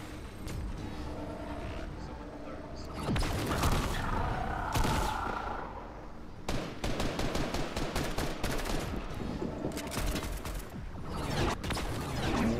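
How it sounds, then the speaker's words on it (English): Gunfire in Fortnite comes as bursts of rapid shots in several clusters, loud and close, with brief lulls and a voice talking faintly underneath in places. "Someone's trying to shoot me."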